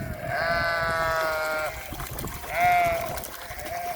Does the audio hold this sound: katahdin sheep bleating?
yes